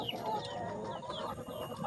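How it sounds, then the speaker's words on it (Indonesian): KUB hens cluck and murmur softly inside a crowded village-chicken coop, low scattered calls over a steady background hum, with no one talking. "Ini ayam KUB di tempat kita ya."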